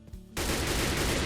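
An M4 assault rifle from the Minecraft Techguns mod firing, a loud dense burst of rapid automatic shots starting abruptly after a brief quiet moment and sustaining to the end.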